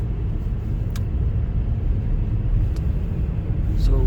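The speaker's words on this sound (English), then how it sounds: "So we are driving Chevrolet Volt." A Chevrolet Volt driving through a December snowstorm in Iceland, a steady low rumble of road and wind noise inside the car, with a few faint clicks over the drone.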